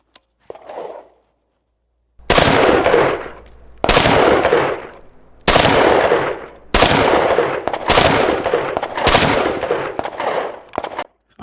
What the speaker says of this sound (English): we're going to go ahead and just put a couple of rounds